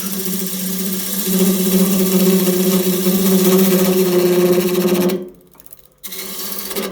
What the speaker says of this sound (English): since this is in spindle orientation, we'll use the skew. First we'll do a peeling cut.